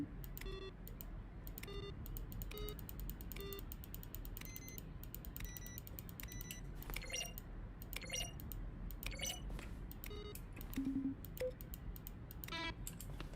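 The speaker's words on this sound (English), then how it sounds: "A selection of the sounds used throughout the game when each button are pressed. Each sound is a mix of keyboard stroke and a synthesized tone." Button-press effects from the video game The Stanley Parable: a series of quiet keyboard keystroke clicks, each paired with a short synthesized tone, arriving in irregular succession over a faint background.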